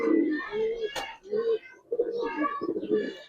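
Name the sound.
Giribaz highflyer pigeon cooing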